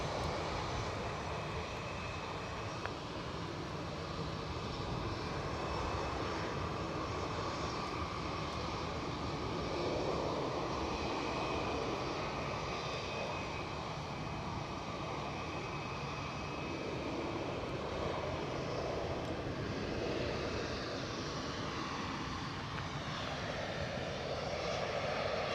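Airliner jet engines roar at Edinburgh Airport, a steady, loud wash of engine noise that holds for the whole stretch with no voices over it.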